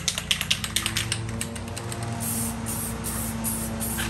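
Spray paint hissing in short bursts onto the grille and bumper of a 1952 Chevy, several quick passes at first and then a steady continuous spray, close by with a low hum beneath.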